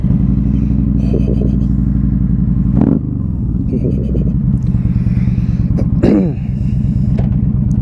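A 2015 Yamaha V Star 1300 Deluxe SE motorcycle engine rumbles loud and close at a steady idle, with two short throttle blips that rise and drop back, and some faint clatter between.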